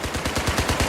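An M60 light machine gun in Battlefield fires a rapid, rhythmic burst of heavy rounds, loud and close, with no talk over it.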